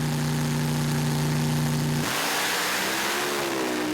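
Mud racing truck engine during a 160-foot record pass at a mud racing nationals, a loud sustained roar that holds steady, then shifts abruptly and climbs in pitch as it pulls away.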